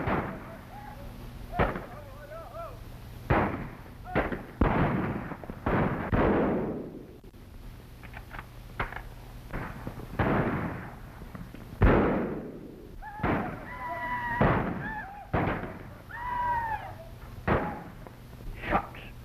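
Gunshots fired at a tin can in a 1935 western, with a dozen or so sharp, irregular cracks, some in quick pairs, fairly close, with faint chatter between.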